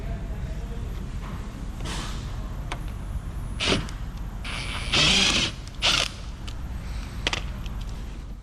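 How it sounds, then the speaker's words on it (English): A Torx 15 bit on an offset adapter backs out the rear bumper bolts of a 2019 Chevy Camaro, with close bursts of ratchet clicking separated by short pauses and some metallic creaks. "I got my Torx 15 and removed those 3 bolts that are in between the bumper and the wheel"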